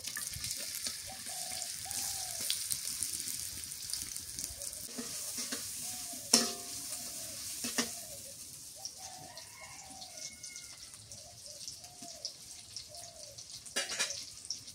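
Onions frying in a pan while being stirred, a steady soft sizzle with occasional spoon scrapes and clinks, fairly quiet and close, no talking.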